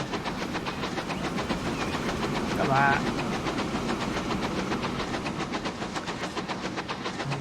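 A goods train rolls past in the Transport Fever 2 game, a steady rhythmic clatter of wagons over rail joints with engine rumble throughout, while someone talks over it.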